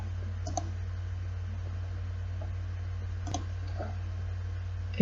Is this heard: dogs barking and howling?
no